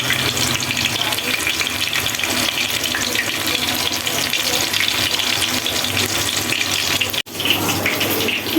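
Loti fish (lotka shutki) sizzles as it fries in a pan on a stove, a steady loud crackling hiss that runs unbroken with only a brief dip near the end.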